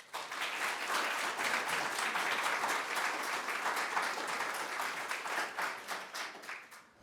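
A seated audience gives sustained applause for an arriving speaker, many hands clapping densely at a moderate distance before the sound thins and fades.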